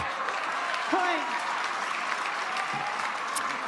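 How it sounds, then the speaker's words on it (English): A crowd at the Carvana Mesa Cup pickleball match, Anna Leigh Waters against Kate Fahey, applauds steadily for several seconds, a dense continuous clapping wash with a brief shout or cheer partway through. "The crowd is elevating their enthusiasm for the underdog."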